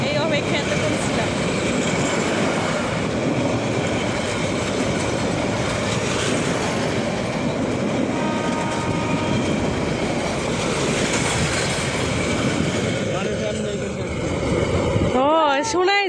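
A train passes near a crowded stretch lined with street snack stalls, a loud steady rumble and clickety-clack of wagons lasting the whole time with occasional wheel squeals, then fading at the end as voices talk nearby.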